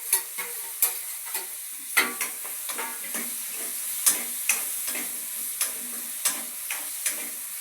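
Tomatoes fry in a pan while a utensil stirs them. Sharp scraping strokes repeat in a steady rhythm over a constant hiss and sizzle, near and fairly loud, with no voices.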